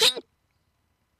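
A single short, sharp sneeze comes up close, followed by silence.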